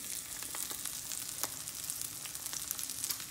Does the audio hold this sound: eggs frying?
yes